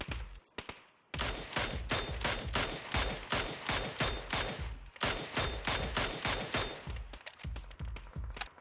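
Rifle shots from a Mini or SMR in the video game PUBG come as a long, loud series of rapid, evenly spaced single shots. A brief pause falls midway, then the firing continues.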